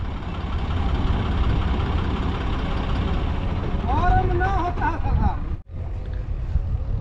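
A tractor engine idles with a steady low rumble on a farm during potato and wheat planting, and voices talk over it before a brief dip and the engine carries on.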